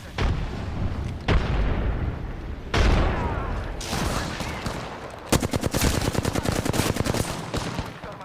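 Rapid gunfire bursts and heavy booms from a thermite grenade in the Apex Legends video game, loud and dense, ending in a fast steady machine-gun rattle.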